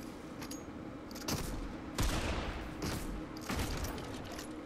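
Gunfire in the video game Fortnite, with several sharp shots at roughly one-second intervals over a steady background of game noise and no talk.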